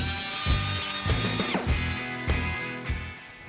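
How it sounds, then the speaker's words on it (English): A rotary tool with a cutoff wheel and flap wheel smoothing the cut edges of a metal hole on a Jeep, a loud continuous high whine with pitch dipping under load in repeated pulses, close and alone. "I'll clean it up with a cutoff wheel and make our edges smooth using a flap wheel."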